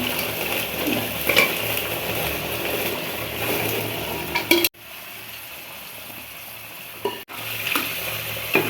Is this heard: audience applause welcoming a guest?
no